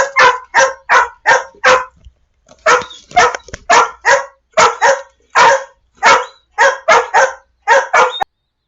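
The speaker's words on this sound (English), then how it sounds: "Sorry about the dogs barking." Dogs barking on a cattle and crop farm, a rapid run of loud, close barks in quick bursts with a brief pause, continuing steadily throughout.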